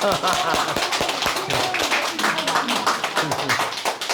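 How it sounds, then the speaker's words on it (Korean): An audience at a company lecture claps hands together, loud and close, with dense rhythmic clapping filling the whole stretch while a voice talks over it. "다시 한번 큰 박수 부탁드리겠습니다"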